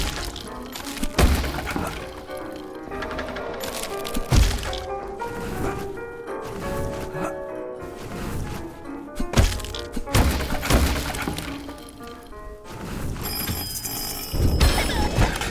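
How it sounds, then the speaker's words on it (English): In the Twisted Tower video game, a telephone is smashed with a mallet: repeated heavy thunks and cracking impacts land at irregular intervals among clattering debris, with a ringing tone near the end. "Is that phone attacking me? Fine. I'll quiet it down with this mallet."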